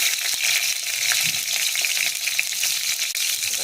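Dry chilies crackle in hot oil while being tempered for Bengali aloo posto, giving a loud, steady, close sizzle that runs unbroken throughout with no voices.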